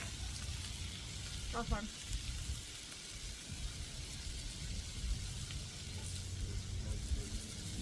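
Lots of bacon sizzles and spits steadily on a Blackstone griddle, a dense close hiss running the whole time with a brief clatter near the start and people talking quietly over it.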